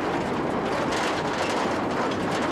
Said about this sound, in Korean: 하지만 심하게 덜컹거리는 낡은 차량에 실려있자니